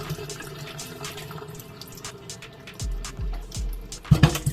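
Water and vinegar splashing and trickling into a sink, a steady pour with a few gurgling glugs and a louder splash near the end.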